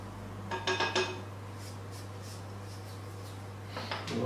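Icing sugar is being mixed in a bowl, with a few quick clinks and scrapes of a utensil against the bowl near the start and again at the end, over a low steady hum.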